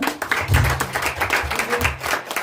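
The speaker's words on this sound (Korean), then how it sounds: "박수 한번." An audience claps together at a Korean church mission conference scholarship ceremony, a dense burst of applause that carries on steadily for a couple of seconds with some murmuring underneath.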